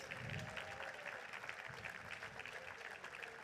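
Crowd applause at a live political event in Hannover, a dense continuous clapping texture with faint crowd murmur underneath, steady and fairly loud throughout.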